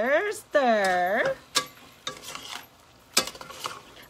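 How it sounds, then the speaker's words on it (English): Sweet pork being stirred as it cooks in a pot, with a few scraping knocks of a utensil spaced across the moment. A voice makes a rising and falling sound at the start. "So you just stir."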